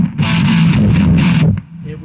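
Electric guitar run through a modded Fender Blender octave fuzz pedal, playing a thick, saturated distorted passage for about a second and a half before cutting off into a faint trailing note.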